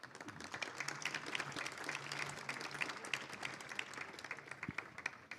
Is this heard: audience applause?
yes